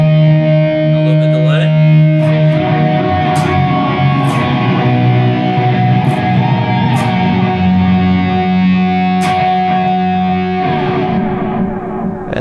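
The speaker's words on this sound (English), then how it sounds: "It's an octave up and octave down, kind of a little bit cleaner tone." An electric guitar played through a Kemper Profiler with an octave-up and octave-down effect and heavy reverb, a fairly clean tone ringing in sustained, layered notes with a few sharp picked accents, loud and continuous.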